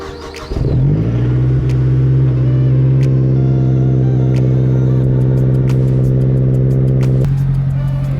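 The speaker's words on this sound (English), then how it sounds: "while we let this car warm up a little bit" A Mazdaspeed 3's engine starts, then settles into a steady, loud idle while warming up, with a deep, even rumble that continues close by and unbroken to the end.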